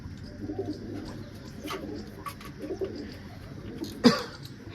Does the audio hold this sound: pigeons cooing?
yes